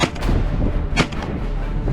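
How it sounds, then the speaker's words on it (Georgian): A hunter fires at ducks near Paliastomi: booming shotgun reports over constant outdoor wind rumble, one sharp blast early and another near the middle. "გადიოდნენ უკვე და სროლა მომიწია"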